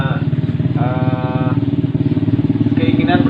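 Motorcycle taxis used for hauling unhusked rice idle close by in a group of ten, their engines throbbing loud and steady throughout while someone talks over them.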